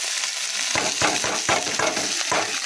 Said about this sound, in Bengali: এই যে পাঁচফোড়ন দিয়েছি সিম আর বেগুন এটা হচ্ছে দিয়ে ভেজেছি এবার এর মধ্যে পরে আলু